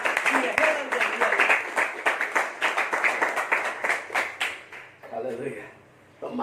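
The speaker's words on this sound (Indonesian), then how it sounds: "beri tepuk tangan yang meriah bagi Allah Tuhan kita" A church congregation claps during an Easter Sunday morning service, a dense run of hand claps that thins out toward the end, mixed with voices.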